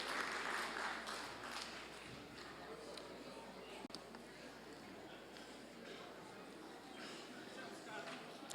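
Audience applause at a spring community college district Flex Day morning session, a steady, moderately loud wash of clapping that fills the whole stretch, with voices mixed in.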